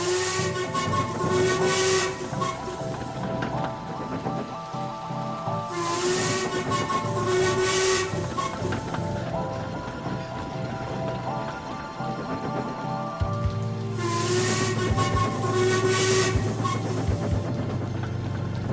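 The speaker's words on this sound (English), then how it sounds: "All too often, his focus was broken by his own whistle." A steam locomotive whistle in the Trainz train simulator blows three long, loud shrieking blasts with pauses between them, over continuous hissing steam and a rumbling train.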